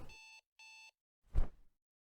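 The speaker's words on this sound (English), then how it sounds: "He grinned at the sound of his alarm clock buzzing and turned it off with an irritated slap" An alarm clock in the Doki Doki Dollmaker game gives two short, even electronic buzzes, each a steady tone with a silent gap between them, followed by a brief dull slap.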